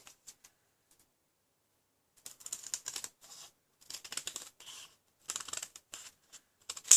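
Scissors trim the thick border of paper mini dimensionals for a stamped card, a run of short crisp snips in quick bursts, close and fairly quiet, with no talking.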